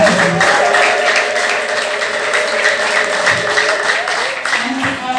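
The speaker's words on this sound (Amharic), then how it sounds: "አጨብጭቡ ለጌታ።" A church congregation claps along during worship, a dense steady patter of many hands under a preacher's voice and loud background music.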